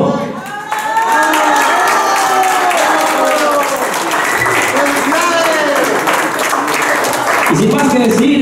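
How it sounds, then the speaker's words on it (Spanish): Guests at a golden wedding anniversary party applaud loudly and steadily, with cheering and overlapping voices mixed into the dense clapping throughout. "Así que también pido un fuerte aplauso."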